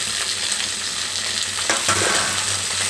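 Steady sizzling of vegetable pieces frying in hot oil with tempering spices for semiya upma, with a brief burst of louder crackle and stirring partway through.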